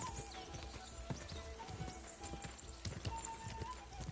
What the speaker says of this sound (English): Mas ao cavalgar eu vou ganhando experiência, não é? Mas é muito lento mesmo o cavalo.